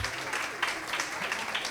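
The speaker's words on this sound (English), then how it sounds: "Round of applause for the Bhawanipur Education Society College, who finished on 55." A crowd applauds a college team at a regional quiz competition round, with dense, steady clapping that fills the whole brief moment at moderate loudness.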